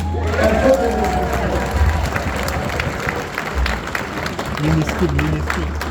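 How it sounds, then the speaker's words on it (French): A crowd applauds and cheers loudly and steadily after a dance performance, with voices mixed into the clapping throughout. "J'aimerais que vous fassiez un tonnerre d'applaudissements pour cette danse"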